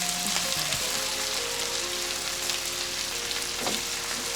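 Sausage, onions, peppers and potatoes fry in olive oil in a big pan, giving a loud, dense, unbroken sizzle close up with occasional stirring clinks and no speech.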